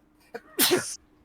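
A single sharp sneeze, close and loud, preceded by a short sharp intake of breath.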